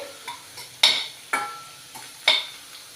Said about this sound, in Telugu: సాల్ట్ ఒక స్పూన్ వేసుకున్నాను ఒక నిమిషం పాటు ఇలా వేయించుకోవాలి